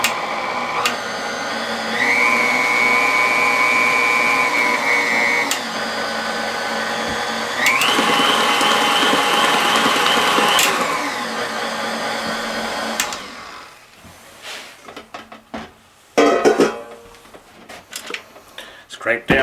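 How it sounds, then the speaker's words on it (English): A stand mixer beats banana nut bread batter after flour goes into the bowl, a loud steady motor whir in two long runs that change speed, followed by clattering and bumping as it stops. "Into our bowl of our mixer, we add the flour mixture. Now mix until smooth."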